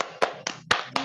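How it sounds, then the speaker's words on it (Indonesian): Four crisp hand claps in an even rhythm, close and loud, with no talking. "tepuk tangan"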